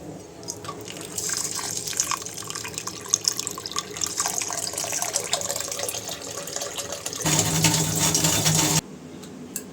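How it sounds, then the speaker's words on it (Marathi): Lentils (dal) are rinsed under a running tap in a kitchen sink, giving a continuous close splashing water stream with some dripping and clatter, getting louder near the end before the flow stops abruptly. "हे डाळ तिला धुवून घेऊया पहिले आपण"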